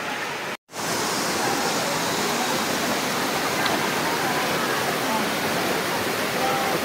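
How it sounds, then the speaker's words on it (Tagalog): Tanawan Falls in Dingalan, Aurora, giving a loud, constant broadband rush of falling water heard up close, with only a brief dropout near the start. "So pababa na po tayo sa Tanawan Falls."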